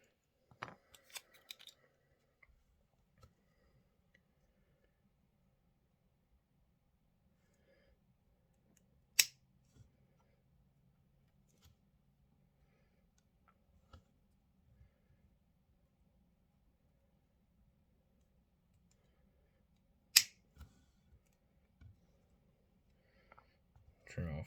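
Scissors trimming small wire offcuts on a vaping rebuildable dripping atomizer, a few sharp isolated snips and clicks spread far apart, close by against near silence.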